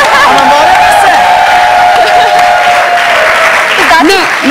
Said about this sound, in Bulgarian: искам да чуя вашето аплодисменти